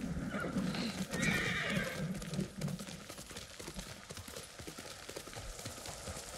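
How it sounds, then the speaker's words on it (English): In the video game Ghost of Tsushima, horse hooves clip-clop steadily nearby while a horse whinnies early on, with the galloping continuing throughout at moderate volume. "Let me get my horse in here."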